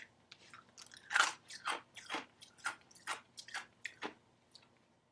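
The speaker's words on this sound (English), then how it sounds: "Crunching. Crunching the ice." Ice being crunched between the teeth, a series of about ten sharp, crisp bites and crackles in an irregular rhythm, close and fairly quiet with no voices.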